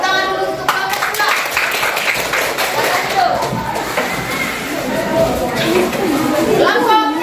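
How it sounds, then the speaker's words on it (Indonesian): A classroom of students clapping for group 2 after their presentation, loose uneven clapping mixed with children's chatter and voices talking over it, birds faintly audible in the background. "beri tepuk tangan dulu untuk kelompok 2."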